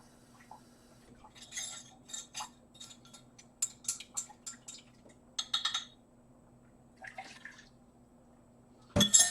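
Dip-dyed fabric is rinsed in water, giving a series of close, soft splashing and dripping bursts in irregular clusters over a faint steady hum, ending with a louder slosh.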